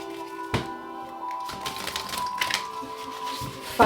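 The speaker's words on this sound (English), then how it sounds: "Let's get 2 more shuffles." A deck of cards is shuffled by hand at close range, giving a steady dry riffling clatter with a few sharper snaps, over a faint background hum.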